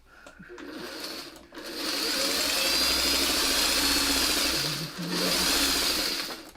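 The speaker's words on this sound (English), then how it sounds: "Now I'm going to start sewing just the petals together." Sewing machine stitching fabric flower petals together in close, steady bursts of rapid whirring, with a short pause near the start and a brief dip near the end, and no talk over the stitching.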